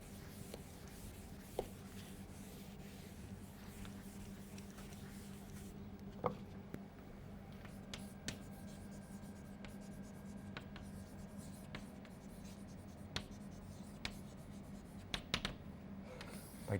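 Chalk or marker writing on a board during a physics lecture, quiet scratching strokes and sharp taps spaced irregularly over a faint room hum.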